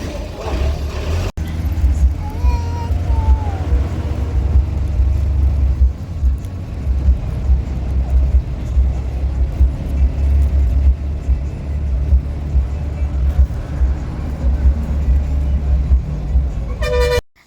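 Riding inside a bus in Kerala on the way to Ottapalam: a steady, loud engine rumble with road noise runs throughout, and vehicle horns toot nearby, including a sharp burst at the end.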